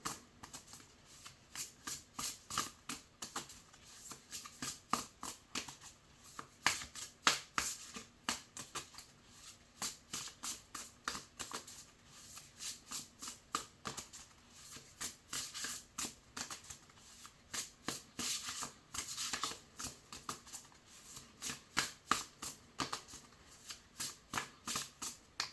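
A deck of oracle cards being shuffled by hand, close up, with rapid repeated riffling clicks and soft flutters running steadily throughout with no talking.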